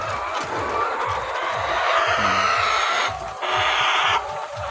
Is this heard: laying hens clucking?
yes